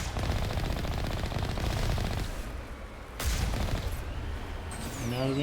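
Rapid automatic gunfire from Geth turrets in the Mass Effect video game, continuous bursts with heavy booming impacts, loud and close, pausing briefly before resuming.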